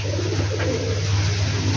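Jalali pigeons coo softly at close range over a steady low background hum, a brief gentle burble with no one speaking.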